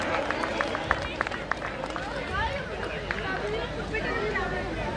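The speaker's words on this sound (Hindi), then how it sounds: "जोरदार तालियां।" Crowd applause at a Holi Milan cultural gathering: steady, dense clapping with sharp individual claps near the start, under murmuring voices and crowd chatter throughout.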